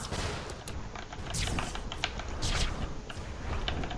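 Rapid, fairly faint shots fired in Spiral Knights during an elite Roarmulus shadow lair run, coming as clusters of sharp clicks and bursts over a steady background hum.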